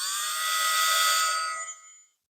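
A Milwaukee M12 Fuel die grinder whines at its lowest speed setting, a steady high-pitched tonal scream with layered harmonics, close and loud for about two seconds before spinning down to silence.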